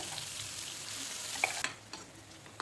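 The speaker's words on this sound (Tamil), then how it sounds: "இப்போ நம்ம அரைச்சி வச்சுருந்தோம் இல்லையா தக்காளி மூக்கடலை, அதை சேர்த்துடலாம்." Ground tomato and boiled chickpea paste going into a hot frying pan, a strong sizzle that drops sharply as the paste lands, followed by a few knocks and scrapes of stirring, no talking.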